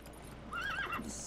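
A horse in The Witcher 3 video game lets out a single high, wavering whinny over a steady bed of game noise, brief and moderately loud.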